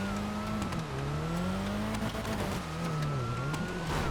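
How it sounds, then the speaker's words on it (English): A supercharged race car engine in the FiveM racing game sounds a steady, loud whine as it slides through corners, its revs rising and falling continuously with no talking. "I love the sound of the supercharger in that car on this server."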